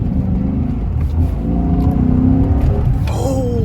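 A Chrysler 300 SRT8 under repair revs its engine loudly and continuously, a deep throaty drone that swells and holds with a rising whine near the end, close by with no pauses.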